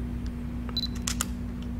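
A Canon EOS M5 mirrorless camera shutter fires at a fast speed with flash, giving a few crisp, close mechanical clicks in quick succession over a low steady hum.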